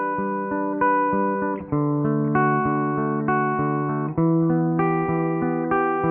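Electric guitar through a Line 6 Helix Jazz Rivet 120 amp model with the low cut engaged plays clean, sustained chords and single notes in a slow, even phrase, close and alone.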